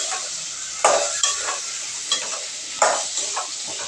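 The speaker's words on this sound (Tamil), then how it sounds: "சின்ன வெங்காயமும் பெரிய வெங்காயமும் சேர்த்து கட் பண்ணி வச்சுருக்கிறத, பச்சை மிளகாய், தக்காளி, முருங்கைக்காய் எல்லாத்தையும் சேர்த்து கிண்டி விட்டுடலாம்." Chopped small and large onions, green chilli, tomato and drumstick are stirred in a hot pan, with a soft continuous sizzle broken by several scraping strokes of the spoon, close and alone.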